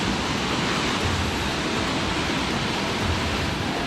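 Düden Waterfalls in Antalya, Turkey, roaring as a constant, dense rush of falling water close by, with no breaks and no voices over it.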